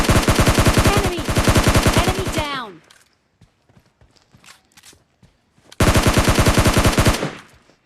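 Video game gunfire rattles out in loud, rapid automatic bursts, a long stream of shots that stops for a few seconds of faint scattered sounds before another sustained burst.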